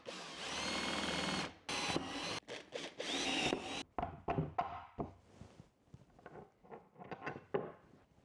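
A power drill bores holes in a wooden board: several seconds of loud, steady whirring with short breaks, then a run of quicker, choppier bursts and knocks close by.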